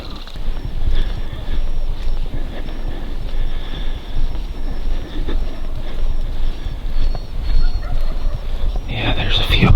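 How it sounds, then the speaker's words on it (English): Wild turkeys gobble at a distance during a morning hunt outdoors, faint calls rising over steady wind and ambient noise, with soft nearby murmuring voices. "Okay, we got our first gobbles out in this direction."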